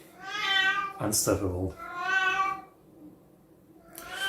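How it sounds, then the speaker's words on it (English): A pet cat meows loudly and persistently, with long drawn-out cries close to the microphone; a person speaks briefly between meows, and another meow starts at the end. "Really sorry about the cat"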